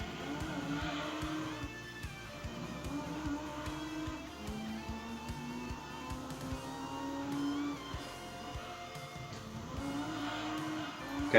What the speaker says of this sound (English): From the outside, the car sounds much different.